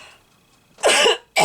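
Two loud, harsh coughs close by, the first longer and the second cut short, following a near-silent pause.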